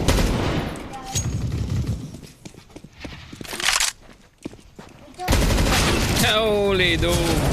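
Rapid bursts of gunfire in a Counter-Strike: Global Offensive match, loud and close, mixed with dense game noise and footsteps, with a voice talking over the final stretch.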